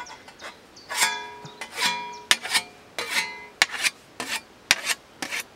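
A scythe blade being sharpened, guided along its ridge: repeated rasping strokes, some with a ringing metallic tone, in an irregular rhythm of about eight passes, close and clear, no talking.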